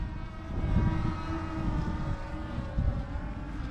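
Drone motors on a float-equipped drone throttle up and lift off from water into the wind, a loud, steady low rumbling drone with surging swells and wind buffeting throughout.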